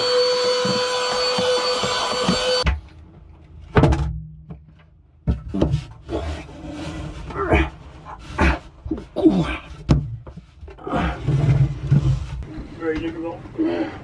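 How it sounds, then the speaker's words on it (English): A vacuum cleaner runs loudly for the first few seconds aboard a sailboat at anchor during a watermaker installation, then cuts off, followed by knocks, rustling and a dog panting and whimpering nearby while people talk. "Vacuum, please."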